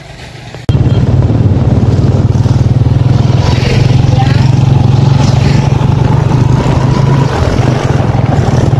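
Motorbike riding along a rural road on a winter evening, its engine droning steadily and close from just after the start to the end of the run, a low continuous rumble with faint road noise and no talking.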